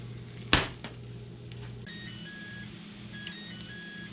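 A kitchen timer sounds a short run of thin electronic beeps, faint and close, set against a low background hum while an egg boils on the stove.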